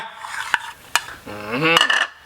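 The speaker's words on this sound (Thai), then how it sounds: "ผสมลงไปในน้ำยำเลยดีมาก" A utensil clinks against a dish while fried egg is mixed into Thai yum salad dressing, with two sharp taps followed by scraping and stirring, close and fairly clear.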